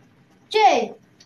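A single cat meows once, a short, fairly loud, rising-then-falling cry close by in an otherwise quiet room.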